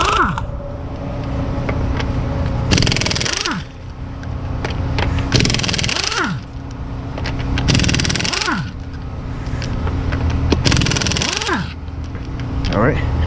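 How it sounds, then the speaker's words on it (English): An impact wrench removes the lug nuts from the wheel of a 2006-2011 Chevrolet Impala, with four loud rattling bursts at steady intervals over a continuous background hum. "Next, let's remove these lug nuts."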